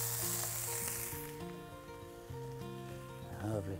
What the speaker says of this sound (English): If you don't get that sizzle, your pan is not hot enough.